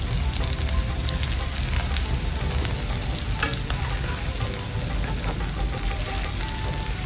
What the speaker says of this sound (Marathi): टाकला कांदा, मस्तपैकी भाजून घेऊ.